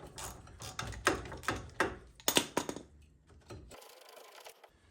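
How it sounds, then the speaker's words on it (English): A hand ratchet clicks in quick bursts while spinning off brake caliper bolts on a Hyundai i10, close and fairly quiet, pausing before a faint hiss at the end. "Now they're cracked off, we can just spin them off with a ratchet."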